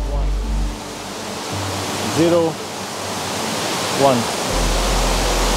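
Water roars in a constant, dense rush close by, with a voice briefly counting over the noise.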